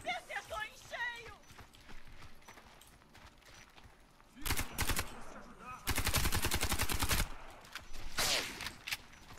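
Rapid bursts of UMP submachine gun fire in the Warface video game crackle loudly in several close volleys, mixed with game effects and a player talking at the start.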